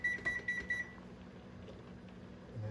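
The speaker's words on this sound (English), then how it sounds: "let's set the timer for 6 minutes" A kitchen timer being set for six minutes gives four short, faint electronic beeps in quick succession, followed by quiet kitchen background noise.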